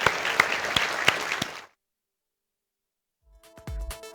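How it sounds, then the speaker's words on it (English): A burst of audience applause and scattered sharp claps at a live Total War: Warhammer presentation lasts about a second and a half, then cuts to silence before a brief musical sting begins. "once again, one more round of applause for Andre and the AI team."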